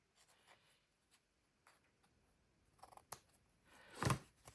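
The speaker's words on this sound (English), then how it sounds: "I'm just going to cut my ribbon" Scissors snip through ribbon for a handmade greeting card: faint rustling and small clicks build to one sharp, louder closing cut near the end.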